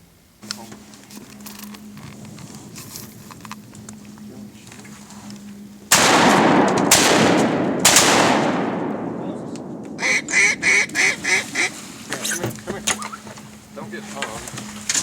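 Loud gunshots crack out during an Arkansas timber duck hunt in 2014, ringing off into the flooded woods, while ducks and geese call before and after and hunters talk.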